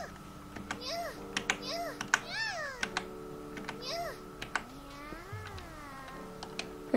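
A cartoon cat in a video game meows repeatedly, a series of bright, high, bending mews, with quieter game tones and key clicks beneath and a voice speaking briefly.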